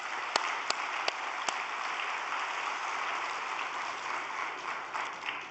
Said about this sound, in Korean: 우리 감사의 박수를 보내주시면 좋겠습니다